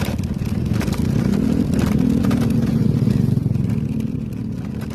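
Motorcycle riding along a remote, rough and bumpy rural road, a steady mid-pitched engine drone with clattering, holding near and loud with small swells in throttle throughout.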